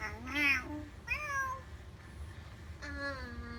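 A FurReal Friends Bootsie interactive toy kitten gives three short electronic meows, close and clear, separated by brief quiet gaps.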